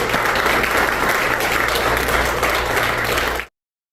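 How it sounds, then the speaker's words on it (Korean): Warm applause from a seminar audience of pastors welcoming a speaker, dense and steady clapping at close range that stops abruptly. "강준민 목사님 모실 때 우리 뜨거운 환영의 박수 부탁드리겠습니다"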